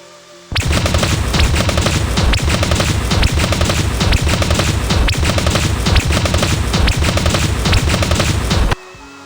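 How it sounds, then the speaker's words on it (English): Sustained machine gun fire from an MG in the Dragon Raja game, loud and continuous with dense rapid bursts over roughly eight seconds. "pass me the MG"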